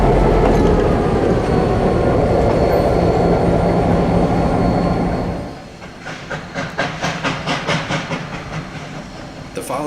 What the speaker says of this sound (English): 1755 is brought forward off the number 3 track and backs onto the number 2 tracks